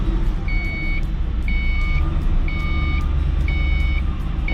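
A car's engine running steadily with a low rumble while a repeating reversing beep sounds about once per second over it.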